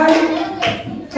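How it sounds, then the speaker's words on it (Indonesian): Schoolchildren at an elementary school session clap their hands in a short burst of a few quick claps, close and fairly loud, with a voice talking over them. "tepuk tangan dulu buat teman-teman yang maju"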